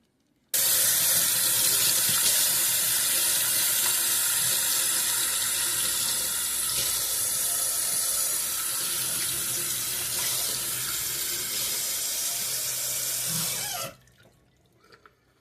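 Kitchen tap running in a steady, loud stream for about thirteen seconds before shutting off abruptly, leaving brief faint drips and near silence.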